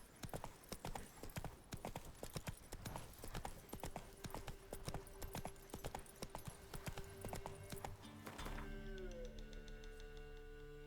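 Roach, the horse in The Witcher 3, gallops with rapid, loud hoof strikes in a driving rhythm that stops abruptly near the end, giving way to sustained musical tones.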